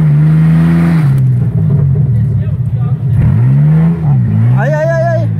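A 4x4 off-road vehicle on a trail revs its engine hard in low gear, a loud, steady mid-pitched drone that rises and falls through the clip while people call out over it.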